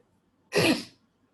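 A single sharp cough from a teacher during a class lecture, close and fairly loud, breaks an otherwise quiet moment.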